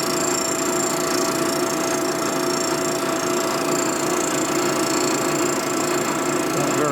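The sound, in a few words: Harley shovelhead motor mount being machined flat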